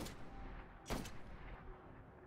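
Gunfire from the video game Destiny: one sharp, faint gunshot breaks through a quiet, low background.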